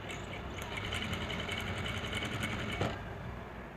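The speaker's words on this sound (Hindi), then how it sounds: "यहाँ से किनारे की तरफ से हम हाफ इंच मार्जिन छोड़ते हुए इसके ऊपर से पूरे राउंड में स्टिच लगा देंगे।" A sewing machine stitches around the neckline of a lehenga blouse, running as a steady, fast mechanical whir with a rapid needle rhythm, close and alone, before stopping near the end.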